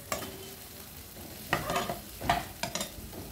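Beans for a vegetable Maggi are stirred lightly in a hot pan, with a soft sizzle under three or four distinct spatula scrapes close by.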